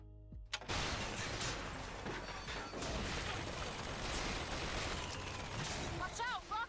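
Rocket blasts and gunfire in the game Bioshock Infinite, a sudden loud burst followed by sustained rumbling explosions and crackling debris, with brief chirping effects near the end.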